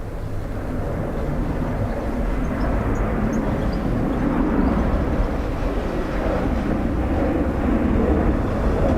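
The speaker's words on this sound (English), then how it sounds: "Aer Lingus A330" An Aer Lingus Airbus A330 jet roars steadily at Dublin Airport on a wet day, a broad, loud continuous rumble that builds slightly toward the end.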